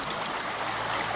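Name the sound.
small creek flowing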